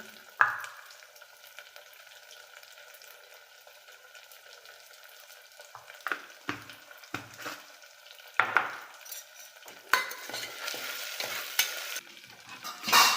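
Rice being tempered in a hot pan: a quiet start, then scraping spoon strokes and a rising sizzle that grows busier toward the end.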